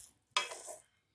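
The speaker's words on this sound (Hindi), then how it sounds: "एक बार फिर से हम पुलाव को अच्छे से मिक्स कर लेंगे।" Cooked samak rice pulao being mixed in a pot, a single soft scraping stir of a spoon through the grains, fairly quiet and close, with silence before and after.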